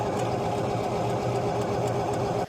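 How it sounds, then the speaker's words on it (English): A track loader engine cranks over steadily to bleed fuel, giving a loud continuous mechanical churn with a rapid rhythmic knock that stops abruptly near the end. "we're going to have to crank the engine over to get that to bleed out"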